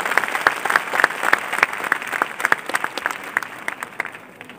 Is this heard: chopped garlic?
no